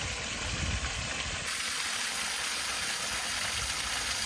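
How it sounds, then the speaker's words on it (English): A small waterfall at Stone Mountain, a steady broadband rush of flowing, splashing water heard close by, constant and without talk. "See, this is the baby waterfall."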